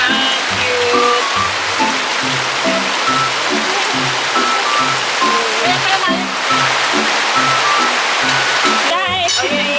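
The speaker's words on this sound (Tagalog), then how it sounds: "Ayan o, sobrang ulan." Heavy rain pours steadily at a farm hut, a loud, dense hiss that never lets up, with voices talking over it and a brief squeak near the end.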